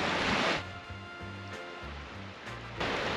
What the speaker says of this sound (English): I just love the sound of the waves doing this.